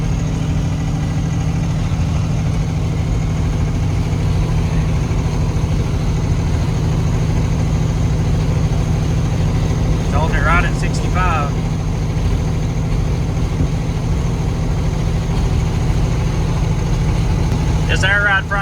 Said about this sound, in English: Jake brakes seem to be holding it back pretty good